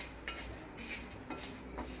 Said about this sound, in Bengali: এই শুকনো লঙ্কা গরম করা হচ্ছে।